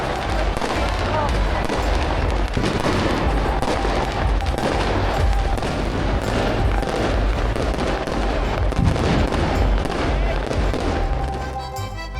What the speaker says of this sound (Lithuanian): Naujieji metai sutinkami su daugybė garsių sprogimų ir begalė fejerverkų.